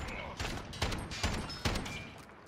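Gunfire in Modern Warfare on PS4 during a tournament match: four sharp, evenly spaced shots crack over a steady layer of game noise, with muffled voices underneath.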